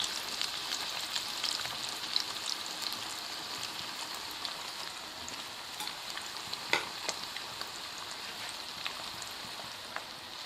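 Beef seekh kebabs fry in oil over a low flame, a soft continuous hiss dotted with tiny pops and crackles, fairly quiet and steady.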